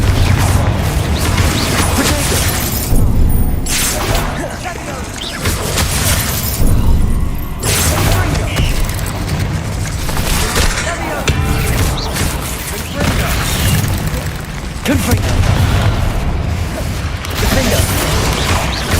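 Bombarda and Confringo spell blasts crash and boom repeatedly through a spell duel in Hogwarts Legacy, dense impacts, thuds and shattering under continuous game action with voices, loud and close throughout.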